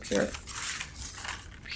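Small hard objects tumble out of a mug and clatter together as they are shuffled around on a surface, a brief quiet rattling and clinking.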